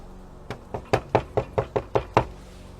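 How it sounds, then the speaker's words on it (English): Eight sharp, close knocks on a hard surface at a haunted campsite, struck in a steady, evenly spaced sequence, with quiet between the hits. "I'm gonna try to knock and see if anything knocks back."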